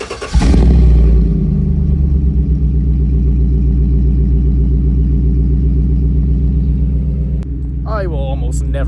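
A truck engine cranks and catches, then settles into a loud, rough, close rumble with a slight rev before easing off, while a person speaks briefly near the end.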